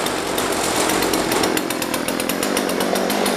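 A Jonsered 2036 Turbo chainsaw runs loud and close, its two-stroke engine a steady, buzzing roar with a rapid pulsing chatter throughout, no voices over it.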